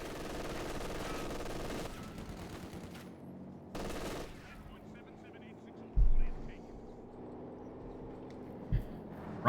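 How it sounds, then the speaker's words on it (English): Machine gun fire in the Company of Heroes 2 strategy game, rattling bursts under a dense battle din that stops abruptly, with a few isolated thuds afterward. "machine gun catching the last one on the west"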